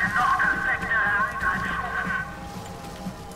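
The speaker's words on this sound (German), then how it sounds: "das ist ein mechanisches Pferd" A mechanical horse in the video game Bioshock Infinite neighs in a drawn-out, wavering whinny over a low rumbling background, with faint hoof-like clopping underneath.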